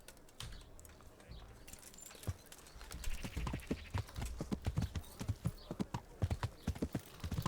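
Horse hooves clip-clop in a steady walking rhythm in the video game Kingdom Come: Deliverance, growing denser and louder toward the end, with no talking.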